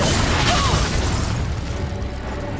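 A Confringo spell explodes in the video game Hogwarts Legacy with a loud, close blast that rumbles and fades over a couple of seconds.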